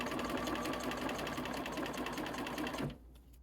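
A sewing machine runs loud and steady while stitching fabric half-square triangles, then stops abruptly just before the end, leaving near silence.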